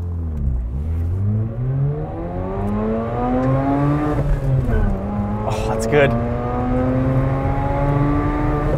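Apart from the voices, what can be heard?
2011 Mazda RX-8 engine revving in rolling launch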